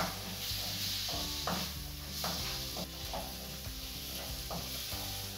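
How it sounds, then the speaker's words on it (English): Prawns stirred in harissa in a hot pan, giving a continuous soft sizzle with repeated scraping strokes of the spoon at a steady rhythm, no voices. "Stir them about in the harissa."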